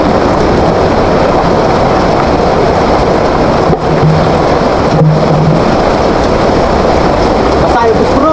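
Sudden heavy rain falls at an outdoor site where a wood stove is being built, making a dense, loud, steady hiss that fills the whole stretch, with a couple of faint brief tones underneath.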